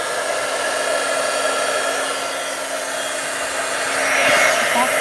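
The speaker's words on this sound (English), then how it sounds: "It sounds like a hair dryer, but we got to heat up our tool." A heat embossing tool blows hot air for card stamping, giving a steady, loud hair-dryer whoosh with a faint constant hum, swelling slightly near the end.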